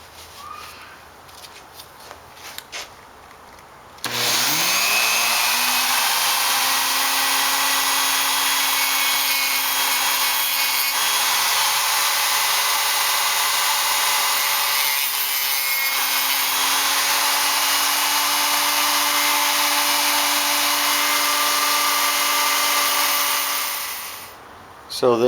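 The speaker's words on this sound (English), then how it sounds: "then we will also sand the clutch drum to remove the grooves" A power tool sands the grooved clutch drum of a worn, slipping ATV centrifugal clutch, starting abruptly and running as one loud, steady whirring grind with a rising pitch at spin-up, then stopping near the end.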